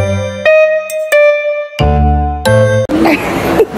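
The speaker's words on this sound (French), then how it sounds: "activez la cloche parce que je suis nouvelle sur YouTube" A notification bell dings several times in a row, bright and close, with clear ringing tones, followed by a brief noisy burst at the end.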